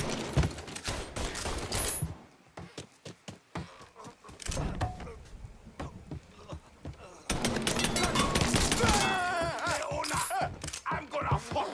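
Gunfire rings out during a Mafia 3 game: rapid, sharp shots in clustered bursts, loud and close, mixed with other game sounds and voices.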